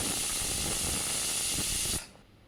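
A pressure cooker on the stove, cooking oats with vegetables, vents steam in a loud, continuous hiss that stops abruptly after about two seconds, leaving quiet kitchen background.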